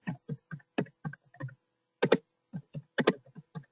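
Close, crisp keystrokes on a computer keyboard as a database command is typed: about sixteen separate clicks arrive in quick uneven bursts with short pauses between them, with no talking.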